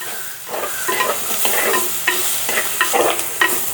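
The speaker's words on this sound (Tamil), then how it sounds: "இந்த பார்த்தீங்களா நல்ல கருவேப்பம் இலை. அப்படியே வதக்கி விடுவோம்." Curry leaves are sautéed in a pan for Jaffna-style chicken rice porridge. A spoon stirs and scrapes in a rhythmic series of strokes over a soft, continuous sizzle, close and clear, with no talking.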